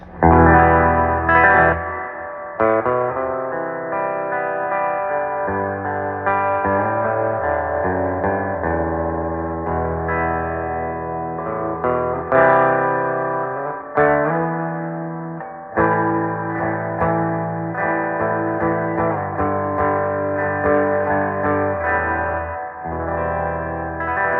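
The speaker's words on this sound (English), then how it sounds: "So this is about as much reverb as I like to use." A distorted electric guitar plays chords and riffs through a vintage Univox U-1226 tube amplifier, with a wash of reverb trailing each note, loud and continuous.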